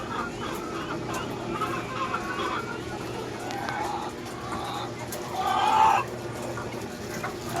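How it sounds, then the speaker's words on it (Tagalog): Chickens cluck and call softly in the background at a resort in San Luis while a person talks, with one louder squawk near the end. "Yan yung mga manok."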